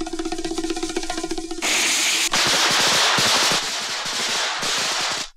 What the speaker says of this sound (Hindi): पार्ट वन रेडी, पटाखे प्लीज।